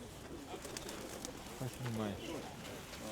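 Soft, low cooing from pigeons at a fair in Pavlohrad rises briefly in the middle, over a faint background murmur of birds and distant voices.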